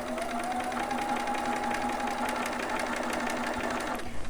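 A home sewing machine stitches fabric for a newborn romper with a ruffle, a steady rapid mechanical whir with fast needle ticking running continuously and close.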